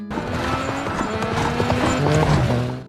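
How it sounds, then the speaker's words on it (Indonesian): Horse hooves clip-clop as John rides away from a stable in a John Wick action film, a steady close trot heard under a continuous tonal music score. "Lalu John pergi dengan menaiki kuda di sana."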